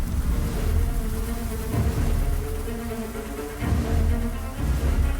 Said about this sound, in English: By vibrating their flight muscles, the honeybees raise the collective temperature to over 40 degrees Celsius.